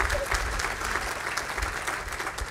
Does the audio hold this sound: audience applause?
yes